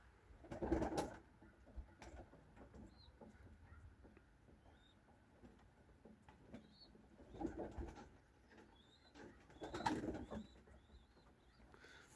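Pigeons sick with trichomoniasis coo softly in a few separate bursts, with faint chirps in between against a quiet background.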